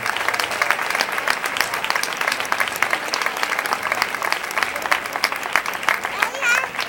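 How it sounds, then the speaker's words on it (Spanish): A crowd at a youth presentation of maids of honour and queens gives sustained, lively applause for a maid of honour, steady and fairly close, with voices mixed into the clapping. "Fuerte aplauso para esta dama de honor"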